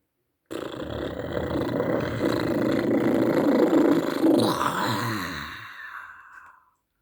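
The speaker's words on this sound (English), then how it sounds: "The bottom burp that sounded exactly like the growl of a bear." A long, loud rumbling bottom burp that sounds like a bear's growl, swelling for several seconds before tapering off into a fading rasp.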